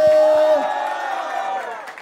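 Crowd at a Brazilian freestyle rap battle semifinal in Barueri, roaring with cheers and whoops after the MC hypes them up, a loud sustained swell with voices shouting over it that fades slightly toward the end.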